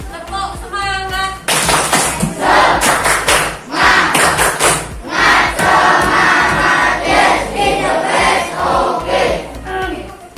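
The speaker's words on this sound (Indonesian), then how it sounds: "Tepuk semangat." A group at a school asset-mapping workshop performs a rhythmic spirit clap, with loud patterned bursts of unison clapping, stamping thuds and shouts, close by and filling the room.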